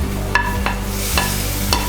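Garlic and onion frying in a pan for a Kerala-style prawn dish, a steady close sizzle broken by several scraping stirs of a spoon against the pan.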